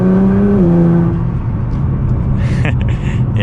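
A 2014 Nissan GT-R with a 700 hp all-wheel-drive setup, heard from inside the cabin: a loud, steady engine drone whose pitch drops sharply near the start, then a broad rumble of road and engine noise.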